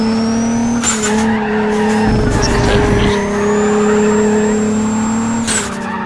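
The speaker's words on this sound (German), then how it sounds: "Jetzt kann ich wirklich Vollgas geben." Race car in Need for Speed: ProStreet on PS3 driving flat out, a steady loud engine drone with tire skids and squeal bursts, under someone speaking German.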